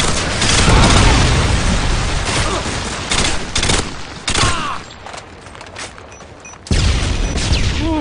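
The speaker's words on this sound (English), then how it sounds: "Friendly Predator missile inbound." A Predator missile strike in a video game unleashes heavy, loud explosions and rattling gunfire in overlapping bursts, with booming impacts and brief lulls before another blast.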